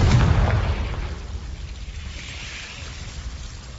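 In Hogwarts Legacy, the Confringo explosive spell bursts with a loud, deep boom at the start, then fades into a long, low rumbling tail with no voice over it.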